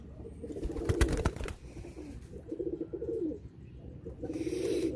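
Pigeons coo softly in a few low, throaty phrases, with a brief burst of fluttering or rustling early on and faint background noise.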